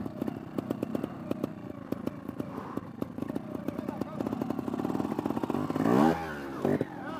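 A trial motorcycle engine putters and clatters in quick pulses at close range, then revs hard as the bike climbs a step, with people talking over it.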